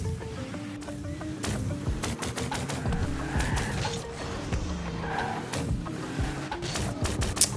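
Space-themed gun sound effect from the Rocket League video game, rapid repeated sharp zapping shots fired in quick bursts, dense and loud with a buzzy, crackling edge.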